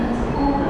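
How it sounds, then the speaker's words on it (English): London Underground Piccadilly Line train running, a steady close rumble of wheels and motor filling the carriage, with a faint voice underneath. "This is our Piccadilly Line train."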